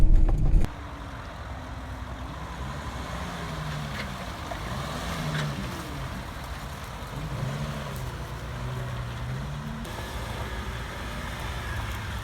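A 2007 Audi Q7 3.0 TDi driving off-road, a steady diesel engine drone heard from inside the cabin with rising and falling tones as it works over the terrain, after a short louder bump at the start.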